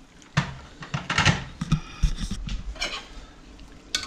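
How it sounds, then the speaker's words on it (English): Close-up stirring of a home-brew moonshine mixture after water is poured into the pot, with a series of uneven scrapes and light clinks against the vessel that rise and fall over a few seconds, with no voices. "And we want to give that a good stir around."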